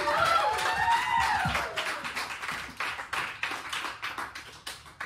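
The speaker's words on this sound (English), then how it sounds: "A big round of applause for our volunteer." A small audience at a live show claps for a volunteer, the first moments mixed with cheering voices, then settling into a patchy round of claps that gradually thins out.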